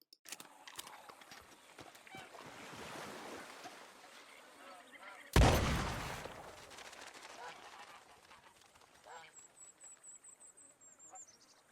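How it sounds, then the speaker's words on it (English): A single shotgun blast fired at fish in Red Dead Redemption 2, loud and sharp with a long decaying boom, following softer splashing and hoof-like clatter, with a faint whistling tone near the end. "Now I'm going to use a shotgun with shells to try and shoot some fish"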